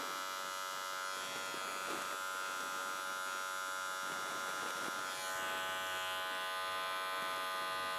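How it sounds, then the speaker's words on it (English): An electric hair clipper buzzes continuously at close range while cutting slices into a fade haircut, its steady whine shifting slightly as it moves through the hair. "I'm gonna take my clipper, put some slices in there"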